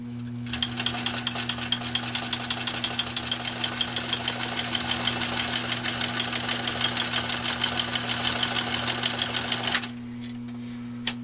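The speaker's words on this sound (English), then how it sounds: "This PFAFF just doesn't even hesitate for a second when it comes to sewing" A fully restored PFAFF 332 walking foot sewing machine with all-metal feed stitches through two very thick layers of nylon webbing, running a fast, steady needle clatter with a constant motor hum for about ten seconds before stopping.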